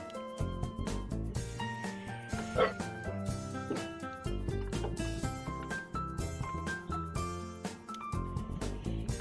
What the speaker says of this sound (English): dog stopped barking